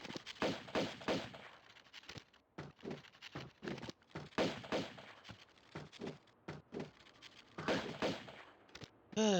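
Gunfire aimed at a spider in the Tomb Raider 2 video game Great Wall level, a rapid series of sharp shots in uneven bursts with short gaps, loud and close, with no talk.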